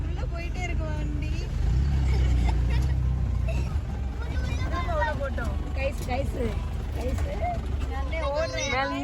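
An off-road jeep rumbles along a forest safari trail in Thekkady, its engine a steady low drone with bumps and rattles. People talk and chatter over it throughout.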